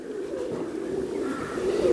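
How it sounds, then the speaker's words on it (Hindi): Teddy pigeons cooing close by, a steady low murmuring coo that runs continuously for a couple of seconds at moderate loudness, with no speech over it. "ये टैडी कबूतर हैं आपके? जी जी, टैडी कबूतर है।"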